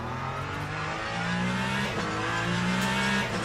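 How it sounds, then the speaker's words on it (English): Ferrari race car engine in the Le Mans Ultimate sim racing game, revving steadily with a sustained tone that rises and falls between shifts, loud and continuous over about three seconds. "The Ferrari sounds good, by the way."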